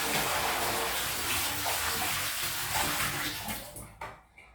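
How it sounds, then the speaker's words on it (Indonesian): Cold water poured straight into a bathroom drain, a steady loud gushing splash that tapers off and stops near the end. "Ini kita tambahkan dengan air dingin. Kita tuangkan langsung."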